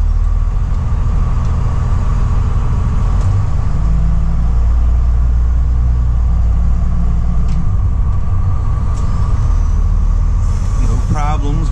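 A 2002 Freightliner FB65 truck backs up with a heavy, steady low engine rumble that stays loud and close throughout.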